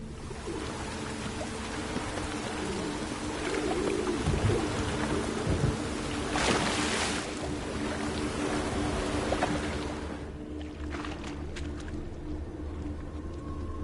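Steady rain pours in The Witcher 3: Wild Hunt, a dense continuous hiss with a swelling rumble near the middle before it eases to lighter patter, heard alone without talk.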